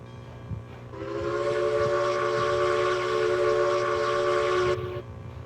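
A steam locomotive in the video game Railroads Online sounds one long, steady whistle blast of about four seconds, loud and close, over a faint rhythmic chuffing.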